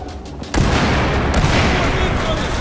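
Sustained gunfire in Battlefield 4, starting abruptly after a brief lull and continuing as a dense, loud volley of overlapping shots and booms. Voices call out over the shooting.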